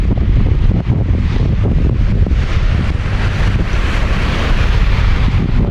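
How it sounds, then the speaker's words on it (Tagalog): Strong wind buffets the microphone over a constant roar of ocean waves during monsoon weather, loud and unbroken, with no voices. "Alon na talaga"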